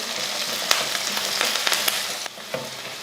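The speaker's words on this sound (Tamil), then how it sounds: "கொஞ்சம் கருவேப்பிலை வதக்கி விட்ருவோம்" Small onions and curry leaves sauté in a pan, a busy close sizzle broken by several sharp spatula scrapes and clacks against the metal.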